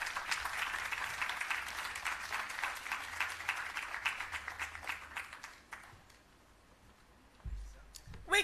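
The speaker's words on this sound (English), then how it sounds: "We can give the minister a larger round of applause than that one." An audience applauds the minister with sustained clapping for several seconds, then it fades into near quiet before a brief thump.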